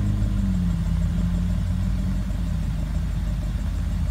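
Steady low engine idle from a luxury SUV's quad chrome-tip exhaust with dual sound mode, a continuous near rumble with a slight dip midway and no rise in revs.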